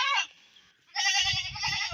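A goat bleating loudly twice, close by, a short cry followed after a brief pause by a longer wavering one, with a low thudding noise underneath the second call.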